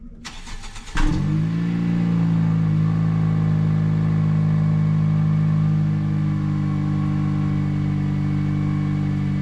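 A Nissan Sentra engine warm-starts with a brief cranking burst, then catches and settles into a loud, steady idle close by, with no talking.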